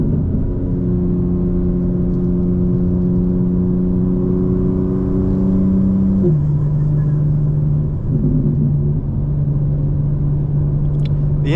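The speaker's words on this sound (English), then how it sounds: "The intakes almost sound like a blow-off valve. It's crazy. You can hear the boost, you know, basically let off." Steady, loud engine drone from inside a BMW M4 while driving, with whirring intake and turbo boost tones that drop in pitch as the throttle eases off partway through, and no talking.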